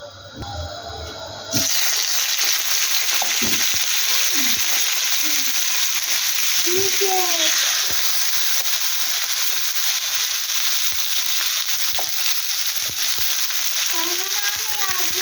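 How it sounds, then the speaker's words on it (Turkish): Oil sizzles and spatters steadily in a greased pan while Iskender is being cooked at home, a loud continuous frying hiss with occasional pops and a few clinks of a utensil, no talking. "Bu da yağ sıkıyor ya. Yanar."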